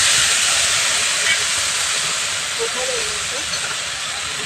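A spice paste of green chili, ginger and tomato sizzles in hot oil with a loud, steady hiss that eases slightly over a few seconds. A faint voice is heard underneath.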